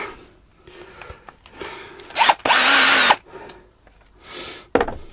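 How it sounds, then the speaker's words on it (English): A new DeWalt power drill revving in short bursts, with one longer, louder whir in the middle, heard close up with no talking. "One of the other things I did buy, a brand new one, is a drill."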